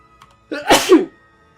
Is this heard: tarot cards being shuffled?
no